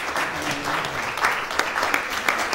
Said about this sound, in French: Peut-être qu'on peut d'abord applaudir Aline pour.